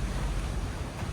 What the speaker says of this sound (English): you can see the waves kind of cresting over that rock there